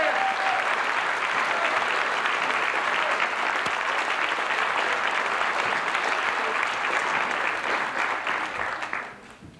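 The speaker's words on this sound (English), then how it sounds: "Let's give him a round of applause." Audience applause at a Reform Party political gathering, a dense, loud, sustained round of clapping from a large crowd that fades away at the end.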